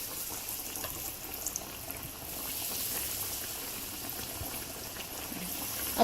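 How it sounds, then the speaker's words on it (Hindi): Chicken patties deep frying in hot oil over a low flame, giving a soft, even bubbling sizzle that carries on steadily throughout at a fairly quiet level. "अब हल्की आंच पे हम इनको डीप फ्राई कर रहे हैं।"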